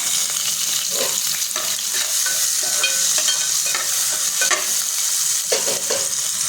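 Finely chopped onion frying in a pan with cumin, asafoetida, garlic and curry leaves, a loud continuous sizzle broken by repeated scraping stirs of a spatula, close and alone.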